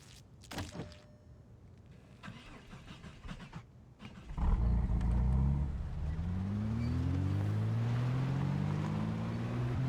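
In a video game, a hotwired car engine cranks with a few clicks and rattles, then catches and roars, its pitch rising steadily as it revs and settles into a loud, sustained run.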